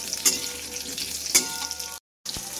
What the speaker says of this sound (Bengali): দেখো, আলুগুলো ভাজা হচ্ছে